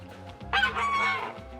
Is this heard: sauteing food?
no